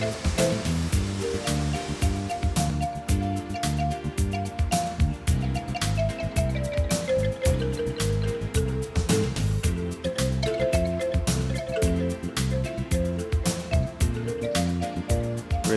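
Waterfall pouring into a rock-pool swimming hole below the falls, a dense steady roar of rushing water, loud and unbroken throughout with no voices.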